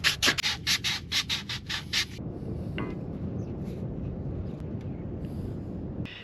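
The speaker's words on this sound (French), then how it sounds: "je suis obligé de poncer minutieusement comme une petite fourmi" A Teflon plastic tube is sanded by hand with a run of quick, evenly paced rubbing strokes that stop after two seconds. A faint hiss and a few soft scrapes and taps follow, close and quiet.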